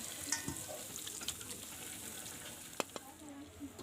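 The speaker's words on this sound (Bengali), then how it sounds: "ঘি দিয়ে ভালো করে যে সবজিটা আমি বয়েল করে রেখেছিলাম এটাই ভাজা করবে" Boiled vegetables frying in ghee in a kadai give off a steady, soft sizzle with occasional stirring clinks and taps, fairly quiet and close, with some faint speech in the background.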